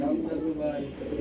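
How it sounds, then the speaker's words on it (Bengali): Male pigeon cooing in a pen among other birds, a steady low throaty murmur running continuously and close, with a voice talking over it. "এই যে দেখতে পাচ্ছেন নটটা ডাকাডাকি করতেছে সামনের দিকে"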